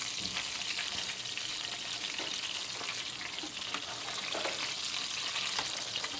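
Country fried steaks fry in a pan with a steady, dense crackle of hot oil, continuous and moderately loud throughout, with occasional scraping or stirring noises and no talking.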